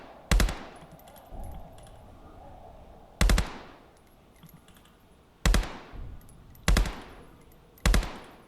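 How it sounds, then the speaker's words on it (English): Five sharp rifle shots are fired one at a time, spaced a second or two apart, in the VR shooter game Contractors, each a loud crack with a short decay and little else between them. "maybe I just need to use my rifle"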